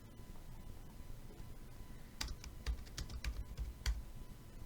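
Fingers tap a computer keyboard in a short quiet burst of clicky keystrokes, irregular and close, over a faint room hum.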